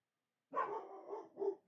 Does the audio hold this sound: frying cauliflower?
no